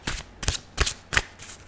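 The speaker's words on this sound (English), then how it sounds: "I do enjoy to do the shuffling this way" Tarot cards are shuffled close up in four quick riffling bursts, each a papery flutter spaced evenly apart.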